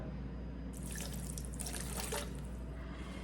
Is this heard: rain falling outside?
no